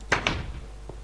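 Wooden door in the video game Minecraft closing with two quick knocking clunks close together, followed by a faint softer thud, short and near.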